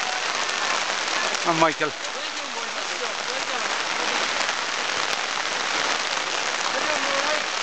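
Heavy rain lashes down at the finish line of the Cork City 10 Mile road race, a dense, steady wash of rainfall heard close by, with people talking over it and a short burst of cheering near the start.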